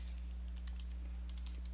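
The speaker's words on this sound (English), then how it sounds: "I'm going to type lowercase Western," Soft keystrokes tap on a computer keyboard in a quick irregular run of light clicks, faint and close over a low steady hum.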